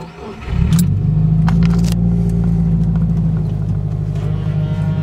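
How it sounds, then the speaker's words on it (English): A Nissan Skyline, prepped for a track day, starts up and settles into a deep, loud, rumbling exhaust idle close by, with a few sharp clanks near the start. "Yeah, the exhaust sounds much better."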